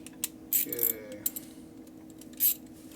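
Ratchet clicks and socket rattles come from work on a 2011 Harley-Davidson Road Glide twin cam motor. The sounds are close, brief and mechanical, with a few sharp metallic ticks over a low background hum.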